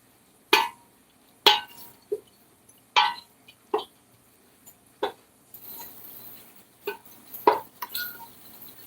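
Metal spoon knocking and scraping in a pot while about half a stick of butter is stirred in, a string of sharp clinks and taps at an irregular pace, close by with no talk.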